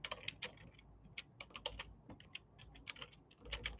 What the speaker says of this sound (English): It's just me typing it in.